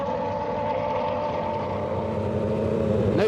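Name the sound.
Formula 1 car engine at 18,000 RPM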